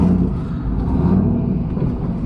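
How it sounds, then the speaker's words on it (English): Car engine idling and pulling away as the car backs up and drives off, a steady low rumble close by with no talk. "I'll actually back up and we'll go for a little drive."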